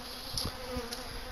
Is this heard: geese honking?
no